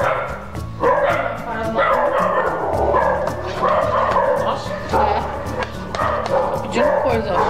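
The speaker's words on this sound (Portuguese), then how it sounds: "não sei se deu pra escutar por causa dos cachorros latindo tudo" Several dogs bark and yip continuously close by in a home kitchen while mashed potatoes are being made, the yapping layered with whimpers and heard under ongoing talk.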